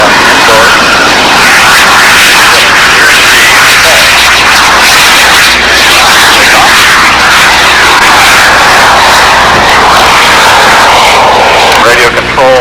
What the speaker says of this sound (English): Radio control miniature aircraft, of course, epitomized here by saying a twin turbine powered aircraft